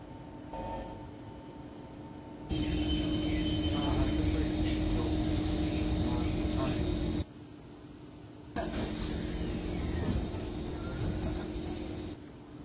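A train in a Roblox rail game, a KHI BA-Series C151 set arriving at a station, gives a steady mechanical rumble and hum with an abrupt drop partway through before the running noise resumes.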